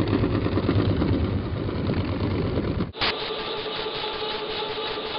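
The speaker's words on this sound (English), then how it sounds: "the sound of shipping traffic, or large propellers, a cavitation of the propellers" A deep, steady underwater rumble with throbbing low pulses from the cavitating propellers of a large cargo ship, broken by a brief click partway through before the drone continues.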